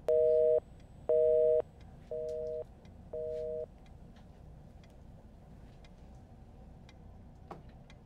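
Phone line tone after a call drops: a short series of four beeping pulses, the first two louder and the last two softer, then quiet line hiss with no voices.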